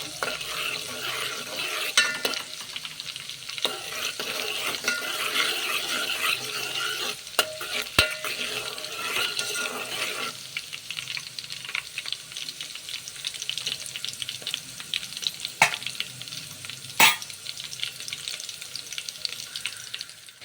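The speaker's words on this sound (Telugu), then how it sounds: "పచ్చిమిర్చి ముక్కలు వేయండి. వాటిని బాగా ఫ్రై చేసుకొని" Green chilli pieces fry in a pan for an egg tomato curry, giving a steady broadband sizzle with stirring clatter and a few sharp utensil knocks throughout, fairly close and with no talking.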